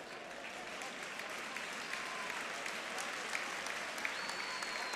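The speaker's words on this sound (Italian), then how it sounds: "applausi adesso che sentirete sono tutti all'indirizzo di Antonino Ragusa, per ora match winner." Continuous stadium crowd applause at a Serie B football match between Vicenza and Bari as a player is substituted off, a broad dense roar of clapping at steady moderate level throughout.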